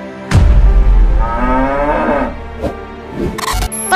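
A cow lets out a loud, drawn-out moo that rises and falls in pitch. A couple of short, sharper sounds follow near the end.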